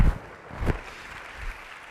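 A lecture audience applauds to welcome Dr. Gary Kaplan at a book talk, a steady, diffuse clapping wash heard from a distance at moderate volume, with no voices over it.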